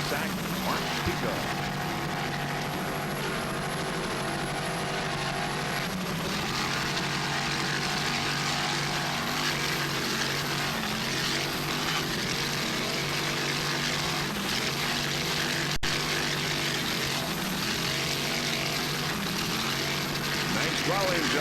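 Offshore racing powerboat engines, including a 27-foot Cobra, roaring at wide-open throttle during the 1995 Ocean City, Maryland national offshore Grand Prix, a steady loud drone throughout with a commentator talking over it.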